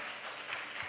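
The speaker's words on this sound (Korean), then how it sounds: "박수하겠습니다." A brief burst of dense applause from a church congregation during a Sunday service, a thick, continuous wash of many hands clapping at once, moderately loud throughout.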